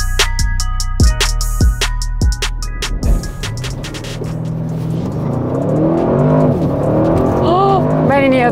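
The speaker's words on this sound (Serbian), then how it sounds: "Ja se nisam nadala da ovaj auto ovako poteže" Audi RS6 C8 estate with a 600 hp engine pulling hard, a roaring climb in revs heard from inside the cabin after a run of sharp clicks, the engine note sweeping upward as speed builds.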